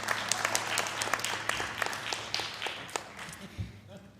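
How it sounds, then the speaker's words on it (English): Audience clapping for themselves at a spiritual gathering, a brisk burst of many hands with sharp individual claps standing out, gradually thinning over a few seconds. "Clap for yourselves."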